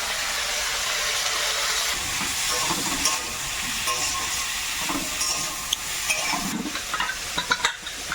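Potatoes fry in a pan with salt and turmeric for ghugni, a loud steady sizzle and hiss with occasional stirring scrapes close by.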